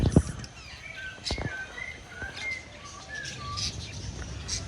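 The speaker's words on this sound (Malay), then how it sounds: "Banyaknya burung." Many birds chirp and whistle in short, high calls scattered across the moment, with a couple of sharp knocks and a soft background hiss.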